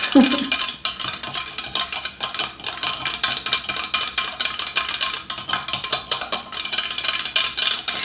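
Muffin batter for blueberry muffins being stirred in a bowl, a continuous scraping, clinking rhythm of spoon against the bowl sides, close and steady throughout with no talking.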